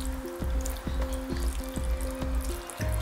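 Water is ladled over cooking beans in a pot, a close, gurgling pour with rhythmic splashes and trickles repeating every half second or so.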